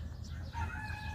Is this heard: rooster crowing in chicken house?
yes